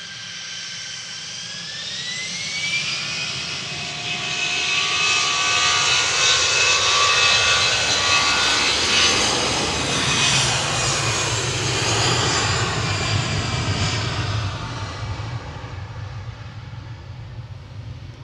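An easyJet Airbus A320 Classic jet departs Manchester Airport for Lisbon, its engine roar swelling with a rising whine and staying loud and near for the whole stretch before easing slightly.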